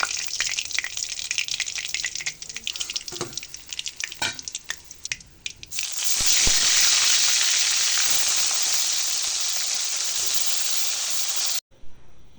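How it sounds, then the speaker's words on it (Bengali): Tilapia fish sizzling and crackling in hot mustard oil, with scraping stirs early on, then a loud, steady sizzle that stops suddenly near the end. "এইভাবে সব মাছগুলো ভেজে নেব"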